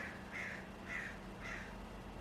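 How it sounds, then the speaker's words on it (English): Crows caw outside a window, three or four evenly spaced calls at a moderate distance, faint and alone over a low room hum. "The crows are having a moment outside my window."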